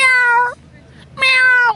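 A voice imitates a cat meowing: two loud, drawn-out, close meows with a short gap between them, harmonic and wavering like a real cat.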